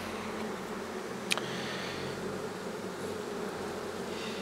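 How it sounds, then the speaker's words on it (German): Honeybees swarm and buzz over a hive frame during queen rearing, a steady close drone lasting throughout with one brief sharp click partway. "So, jetzt haben wir natürlich hier die Bienen drauf."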